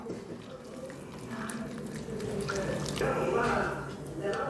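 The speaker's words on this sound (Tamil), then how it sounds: "தண்ணி ஊற்றி நம்ம நல்லா பிசைஞ்சு எடுத்து வச்சுக்கணும்" Wet, squishing sounds as jaggery and banana dough is kneaded by hand with water added, soft irregular squelches and drips close by, with a person talking over them.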